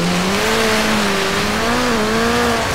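In Forza Horizon 3, a Land Rover Defender slides through a snowy hairpin on Blizzard Mountain. A loud, continuous engine drone holds a wavering pitch that rises and dips as the car slides, with no voices.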